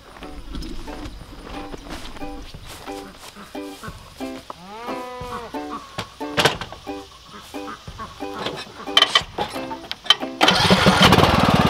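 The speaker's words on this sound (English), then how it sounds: "Lawn tractor is a popular tool around here." A lawn tractor engine runs at a farm with goats under a shelter, its steady drone broken by animal bleats and clattering, growing louder and rougher near the end.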